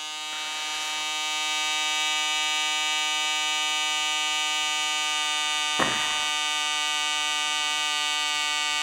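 A Fieldpiece DDSM1 draft simulator fan runs on its second speed, a loud steady electric whine with strong tonal hum that ramps up and holds, broken by two short clicks or bumps.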